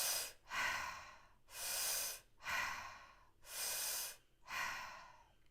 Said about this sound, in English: So I'm going to be breathing through my mouth.